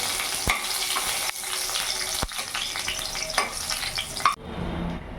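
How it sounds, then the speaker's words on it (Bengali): Dried red chillies and bay leaves frying in hot oil with cumin for a Bengali dal tempering, a bright steady sizzle with stirring clinks of a spoon against the pan, ending abruptly, no speech. "দুটো শুকনো লঙ্কা, দুটো তেজপাতা দিয়ে দিলাম। ফোড়নটা একটু ভাজা হোক।"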